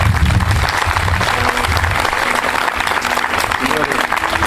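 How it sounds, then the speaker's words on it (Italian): Wedding guests applaud in a church, a loud, dense spread of clapping that holds steady throughout, with some voices mixed in beneath it. "E un applauso ci vuole."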